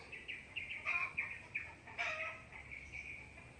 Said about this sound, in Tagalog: Bakit kaya nag-iingay ang mga manok?